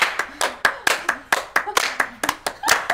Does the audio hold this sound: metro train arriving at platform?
no